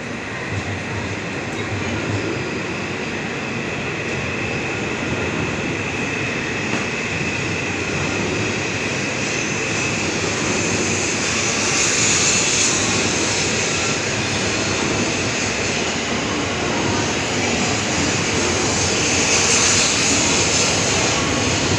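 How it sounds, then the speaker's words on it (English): A Shinkansen bullet train departs a platform at Tokyo station, a continuous loud rushing roar with high whine that swells slightly midway and holds steady throughout. "The 224 train bound for Kanazawa, departing platform 22."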